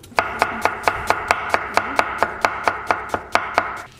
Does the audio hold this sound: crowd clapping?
no